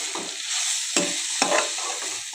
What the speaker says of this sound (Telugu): మునగాకు చక్కగా ఫ్రై అయిపోయింది